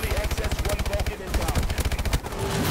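Rapid automatic weapon fire from Call of Duty Advanced Warfare, a close, loud rhythmic burst of evenly spaced shots with a brief pause midway, then continuing steadily.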